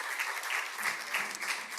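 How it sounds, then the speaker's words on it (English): Brief burst of audience applause at an international conference, a dense patter of many hands clapping, moderately distant and steady for under two seconds. "Uma salva de palmas, por favor."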